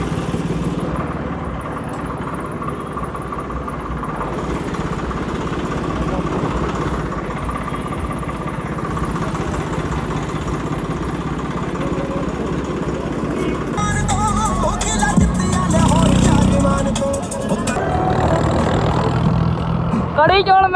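A tractor that pulls a trolley and plough, on a Vaisakhi trip to Gurdwara Tibbi Sahib, with a steady close engine rumble that swells louder near the end while voices talk over it.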